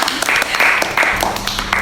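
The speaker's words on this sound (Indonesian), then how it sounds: "Tepuk tangan buat diri kita sendiri." A small group clapping in short bursts during an Indonesian podcast, the patter rising and falling in brief clusters close to the microphone with voices mixed in.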